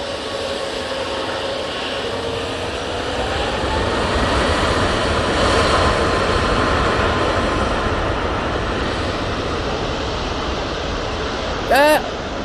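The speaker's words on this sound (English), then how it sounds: "Ryanair 737 MAX 8 now about to spool up, going off to Warsaw." A Ryanair Boeing 737 MAX 8 at Manchester Airport spools up its engines for departure to Warsaw: a broad, steady jet roar that swells in the middle and holds, heard from a distance, with a brief chirp near the end.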